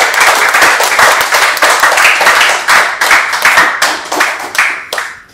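Audience at a Women's Day stage show honouring theatre artists claps loudly and steadily, a dense wash of many hands sustained for several seconds before tapering off at the end.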